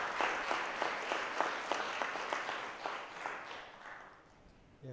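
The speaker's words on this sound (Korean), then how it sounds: "뜨거운 박수로 맞이해주시기 바랍니다." Audience applause welcoming a speaker at a Korean pharmaceutical industry symposium, a steady clatter of clapping with some louder individual claps that thins out toward the end.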